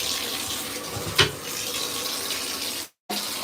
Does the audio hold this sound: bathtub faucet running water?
yes